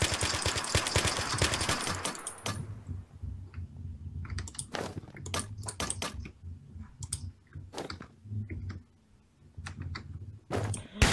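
A Striker gun fires in a video game: a dense volley at first, then scattered sharp single shots and clicks spaced unevenly, fairly close and loud.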